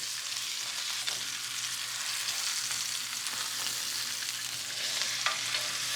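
Rack of lamb searing in a hot pan and being flipped, a constant loud hissing sizzle with a few light clicks and scrapes, close up and without talk.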